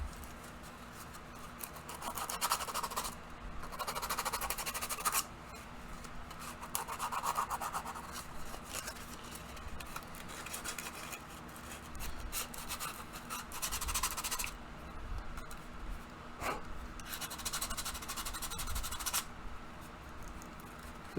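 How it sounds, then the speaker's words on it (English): A piece of 150 grit sandpaper is rubbed back and forth over raised plastic lettering, making quiet, repeated scratchy strokes in irregular bursts, close up and alone. "here, a little piece of sandpaper. Now, I only happen to have 150 grit"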